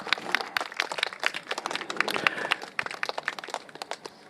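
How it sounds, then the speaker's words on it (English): Outdoor rally crowd applauding in the rain at an election rally ground in Singapore, dense clapping with sharp individual claps close by, sustained for several seconds. "Give yourself a round of applause."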